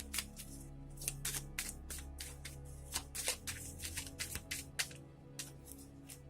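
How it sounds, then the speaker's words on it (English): Close, dry riffling and flicking of a deck of handwritten cards being shuffled, a rapid series of crisp papery bursts with short pauses between them and no talking. "I'm going to start wrapping up this reading by drawing out a deck of cards from this box of cards."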